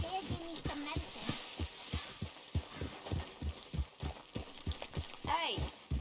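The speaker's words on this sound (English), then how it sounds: "Hey, you get that horse out of here." Horse hooves clip-clop at a steady walking rhythm in Red Dead Redemption 2, the evenly spaced thuds close and clear, with game voices speaking over them.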